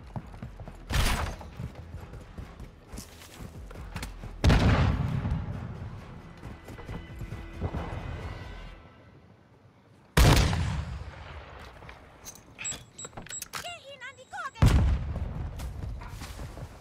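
Gunfire in Call of Duty Modern Warfare 2 Team Deathmatch, loud booming shots and bursts at irregular intervals, mixed with mechanical game effects and a few background tones.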